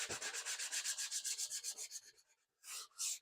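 Hand sanding of body filler on a fiberglass part, a steady run of quick, close rasping strokes that fade to a pause before two louder, broader strokes near the end.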